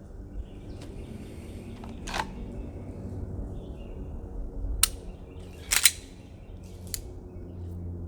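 A pistol's trigger clicks during dry-fire practice: four or five sharp, dry snaps spaced a second or so apart, in a quiet room.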